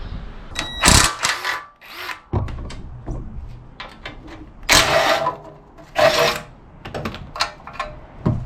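A power tool bursts repeatedly in short loud whirs as it works bolts off the front subframe of an MG TF, with clunks and metallic handling between the bursts in a close workshop setting.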